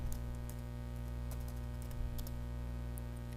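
Computer keyboard typing, a run of light, irregular key clicks spread through a few seconds over a steady background hum, close and fairly quiet, with no speech.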